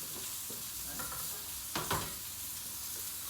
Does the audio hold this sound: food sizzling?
yes